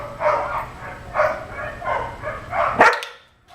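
A dog barks during a training session in a steady series of about five sharp, close barks, evenly spaced, ending with a louder final yelp before silence.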